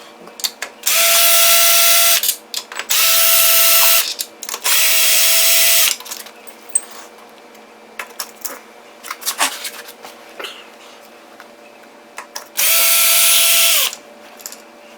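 Power tool spinning out 8mm bolts from a GY6 scooter CVT cover, a series of loud whirring bursts of about a second each separated by short pauses and small clicks, close up with no talking.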